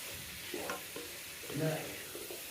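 Food frying in oil, a soft, quiet sizzle with faint stirring clinks, heard alone at low level.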